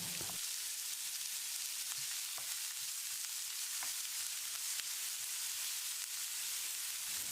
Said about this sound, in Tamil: 100 கிராம் அளவுக்கு ஒரு பெரிய வெங்காயம் பொடியாக நறுக்கினது